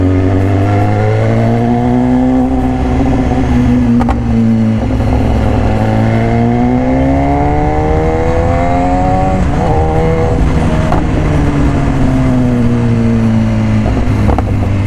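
A 2018 BMW S1000RR sportbike fitted with an Austin Racing exhaust, ridden at speed with a quick shifter, rumbles loudly and continuously, its engine pitch rising and falling through smooth clutchless gear changes.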